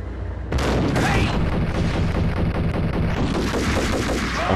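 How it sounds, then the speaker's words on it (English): Assault rifle fire in the Max Payne video game, a dense burst of rapid, loud shots that starts abruptly and rattles on without pause. "I'm forced to use my assault rifle."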